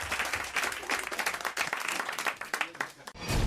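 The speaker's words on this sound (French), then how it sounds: "franchement, on vous applaudit, François." Studio audience applause on a French radio comedy and jokes show, a dense, steady wash of many hands clapping close to the microphone throughout, with a brief dip near the end before it swells again.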